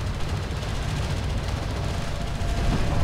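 Sustained rumbling gunfire strikes an armored vehicle in the strategy game Homeworld: Deserts of Kharak, a dense, steady barrage of low thuds and rattling impacts that continues without pause.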